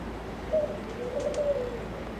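Soft, low cooing from doves in a tropical garden in Charleston, a few faint calls over quiet outdoor background.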